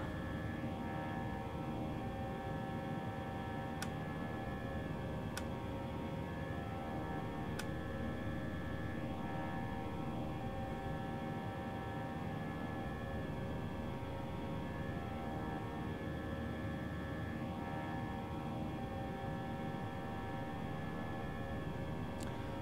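ToLiSS A319 airliner climbing after takeoff in a flight simulator, a steady, unbroken jet engine drone with layered tonal whine and a few faint clicks, no voices.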